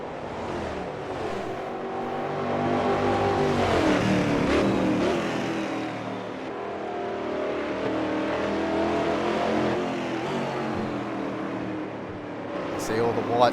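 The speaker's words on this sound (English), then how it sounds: "The Shell Helix cars working hard." Shell Helix stock cars race at Velopark in a Brazilian stock car series. Their engines roar loudly and continuously, with rising and falling revs as they pass, under a commentator's voice.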